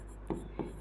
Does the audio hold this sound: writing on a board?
yes